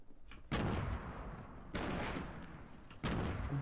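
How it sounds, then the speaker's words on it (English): Sniper gunfire in Fortnite, three loud sharp booming shots about a second apart, each trailing into a rumbling echo, with no voices. "Yep, we're getting sniped at."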